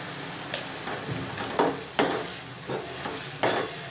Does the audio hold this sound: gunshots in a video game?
no